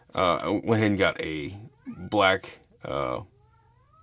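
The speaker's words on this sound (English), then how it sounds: "He's meowing to get in the light box." A pet cat meows repeatedly to get into a light box, several drawn-out, insistent cries close by, overlapping with a person talking.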